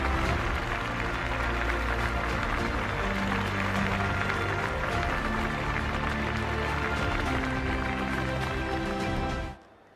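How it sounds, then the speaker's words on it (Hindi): Sustained loud applause from a large crowd at a political rally for women's welfare schemes continues dense and unbroken for several seconds, then stops abruptly. "जोरदार तालियों के साथ अभिनंदन करें हम।"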